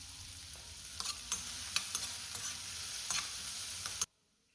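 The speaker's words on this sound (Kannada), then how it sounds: "ಈಗ ಒಂದು ಪ್ಯಾನ್‌ಗೆ ಆಯಿಲ್ ಆ್ಯಡ್ ಮಾಡಿಕೊಂಡು ಅದಕ್ಕೆ ಕ್ಯಾರೆಟು, ಈರುಳ್ಳಿ, ಕ್ಯಾಪ್ಸಿಕಮ್ಮು ಇಷ್ಟನ್ನು ನೀಟಾಗಿ ಹೈ ಫ್ಲೇಮಲ್ಲಿ ಫ್ರೈ ಮಾಡ್ಕೊಳ್ಳಿ." Carrot, onion and capsicum fry in oil in a pan over high flame, a steady close sizzle broken by clicks of stirring, stopping abruptly near the end.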